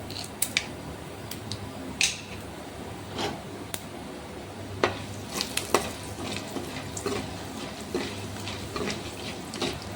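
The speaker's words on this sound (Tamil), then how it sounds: "சீரகம் புரிஞ்சிச்சு கொஞ்சம் உளுத்தம் பருப்பு சேர்க்குறேன்" Cumin seeds and urad dal fry in hot oil for a greens-stem upma, giving a soft steady sizzle broken by scattered sharp crackles and pops.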